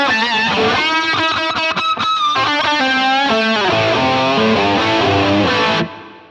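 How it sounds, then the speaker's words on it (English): An electric guitar plays an 80s rock riff through a Line 6 POD Express on a crunch tone with overdrive and chorus. The chords are loud and strummed with some choppy stops, then ring out alone before cutting off. "I could go for like a crunch sound with a bit of overdrive and a bit of chorus"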